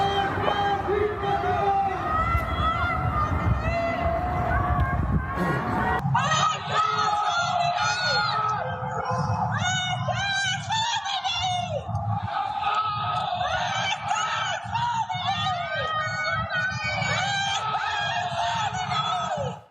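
Tehran residents chanting slogans at night, a loud crowd of shouting voices that echo from a distance, with a rhythmic repeated chant that follows an opening stretch of rough noise.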